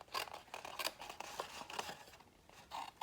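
Scissors snip and slide through a 12x12 sheet of designer patterned paper, trimming away excess from a gift bag, with a quick series of close, soft cuts and rustles.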